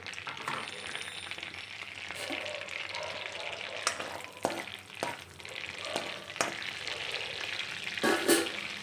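Whole garam masala spices sizzling in a mix of butter and ghee for tomato rice, a soft steady fry broken by clinks and scrapes of a stirring spoon, with no talking.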